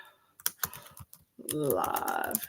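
Fingers tap on a sticking computer keyboard, sharp uneven clicks that open the stretch. Partway through, a voice starts and the later keystrokes sound beneath the talk.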